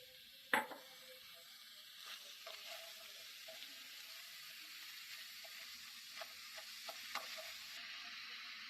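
Mushrooms being stirred in a pan over a medium gas flame, with a steady soft sizzle of frying under faint scrapes and taps of a spoon against the pan, and one louder knock near the start.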